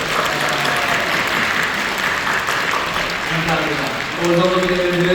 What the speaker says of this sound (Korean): 우리 다시 한번 우리 영유하고 교사들 격려하는 박수 한번